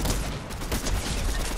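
Rapid gunfire in a gun-game round of a first-person shooter set in a modern mansion. Bursts of shots follow one another closely and stay loud and close throughout.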